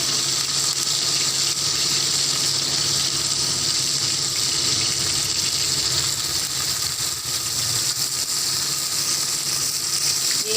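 Chapli kebabs frying two at a time in hot oil on a small tawa over a low flame, giving a steady, dense sizzle that holds evenly and fairly loud throughout.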